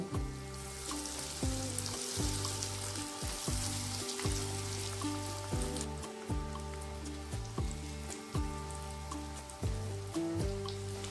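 Chicken nuggets fry in a pan with a steady, close sizzle, and leftover rounds of dough cut into shapes fry alongside them; a loud, tuneful music track plays over the frying throughout.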